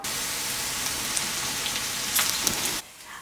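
Onions fry with garlic in hot cooking oil for Filipino-style pork menudo: a dense, steady sizzling hiss close up, cutting off abruptly near the end.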